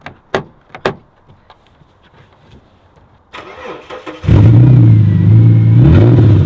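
A Ford Falcon engine fitted with an alternator is jump started: a few sharp clicks and knocks, a cranking whir, then the engine catches and runs loud and close with a steady rumbling idle and slight revving.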